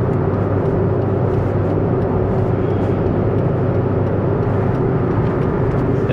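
A 2012 Kia Soul in sixth gear at full throttle, cruising at 70 mph after a clutch replacement, heard from inside as a loud, steady engine drone and road roar that never lets up.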